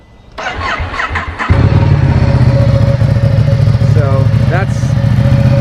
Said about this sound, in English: let's give you a startup since you guys haven't heard one for a while on this bad boy